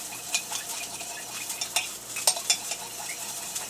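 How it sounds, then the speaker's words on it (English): A teaspoon stirs a mixture for blackened salmon until it blends into a light brown, giving soft, irregular clinks and scrapes against a dish at close range, with no talk. "teaspoon to stir it up until it blends well and turns into a light brown."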